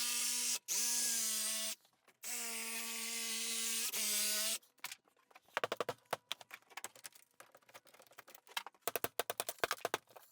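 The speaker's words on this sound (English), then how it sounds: "So I'm just going to take my Sawzall and cut it out." A Sawzall reciprocating saw cuts out the corner of a shower wall in two long buzzing bursts, followed by scattered clicks, taps and clattering debris as the cut-out piece is worked loose.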